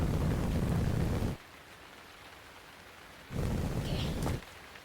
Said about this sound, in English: Bruh, why does it gotta rain?